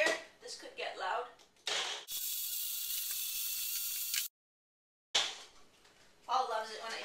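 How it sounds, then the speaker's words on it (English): A Magic Bullet blender whirs loudly and steadily for about two seconds while blending a protein shake, preceded and followed by talk, with a brief silent gap after it stops. "Throw on the blender, so I give it a little shake. I use the Magic Bullet."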